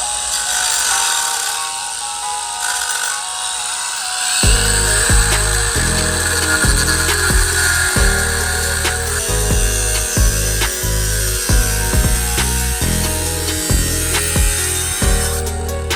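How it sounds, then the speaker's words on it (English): Angle grinder cutting into a Nissan 350Z intake pipe, a quiet hiss at first, then loud, close grinding from about four seconds on in repeated short bursts and pauses, continuing to the end; no talk. "he's putting an angle grinder straight to it"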